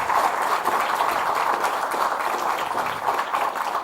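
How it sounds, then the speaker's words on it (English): A church congregation gives a sustained round of applause, dense steady clapping from many hands filling the room for several seconds without a break. "Give Michael a round of applause."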